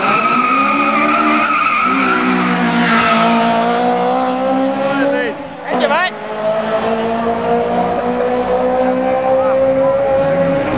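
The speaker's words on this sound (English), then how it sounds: "And here is Leonard in Lima's Civic, Honda Civic racing Toyota Starlet GT." A Honda Civic and a Toyota Starlet GT race on track, engines screaming loudly at high revs with rising and falling pitch, a brief tyre squeal in the middle, while people talk over the noise.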